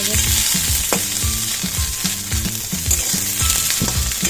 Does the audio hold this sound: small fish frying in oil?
yes